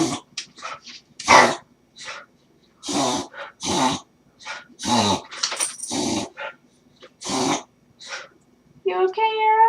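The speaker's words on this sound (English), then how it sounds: "Sorry, guys, it's my dog." A pet dog named Arrow vocalizes with short growls and whimpers in a room, ending in a brief higher whine, interleaved with a person talking throughout.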